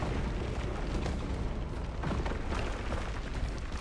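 Heavy defensive cannon fire and explosions in a Warhammer 40K battle, a continuous loud rumbling roar with repeated booming impacts close by throughout.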